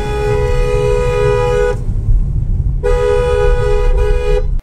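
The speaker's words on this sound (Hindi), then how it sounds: "एक बार मैं आपको कैबिन के अंदर से हॉर्न्स की साउंड सुनाता हूँ" Two long blasts of loud Hella twin-tone car horns, four fitted, muffled as heard from inside the car's cabin, separated by about a second of engine rumble.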